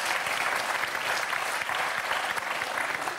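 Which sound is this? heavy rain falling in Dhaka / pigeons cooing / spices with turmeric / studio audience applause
studio audience applause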